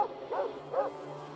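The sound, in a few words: dogs barking in a video game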